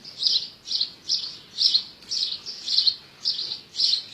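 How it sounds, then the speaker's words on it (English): A bird chirps repeatedly in a steady rhythm, about eight sharp bright calls, fairly close against quiet background. "We've been told the birds are too loud."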